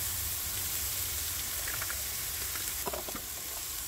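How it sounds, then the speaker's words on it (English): Browned ground beef with taco seasoning sizzles steadily in a camp pan, a constant hissing fry with faint crackles and an occasional stir scrape, close and even throughout. "now that our ground beef is brown, we're going to add taco seasoning"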